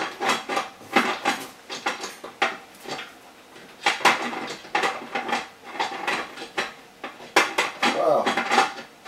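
A metal lid set onto a canner pot while homemade dill pickles are processed, heard as repeated bright clanks and scrapes of metal on metal, close and fairly loud, in irregular bursts throughout.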